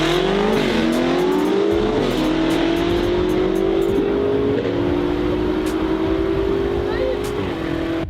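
An 800 hp BMW M5 drag-racing an Audi R8 V10 gives a loud, steady engine roar that climbs hard and steps through several quick gear changes over eight seconds.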